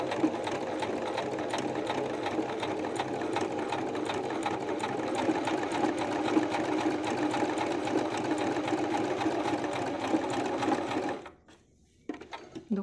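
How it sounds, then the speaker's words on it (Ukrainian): A domestic sewing machine stitches fabric with a fast, steady mechanical whirr that runs close and loud for about eleven seconds, then stops abruptly, followed by a couple of faint clicks. "машина в цей час шиє назад"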